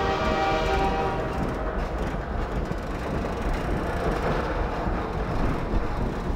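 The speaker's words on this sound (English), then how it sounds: "And we're just on a tram again." A tram rolling on rails in the Half-Life 2 video game, a loud, continuous rumble and clatter lasting throughout, with no talk over it.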